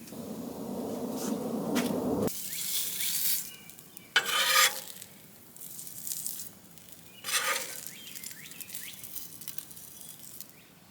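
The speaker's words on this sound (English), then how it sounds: "We're going to let it go on the grill now while that bread's toasting up to get nice and melted" Burgers and bread sizzle on a hot griddle, a steady close hiss broken by spatula scrapes and bursts of louder crackle, with no voices.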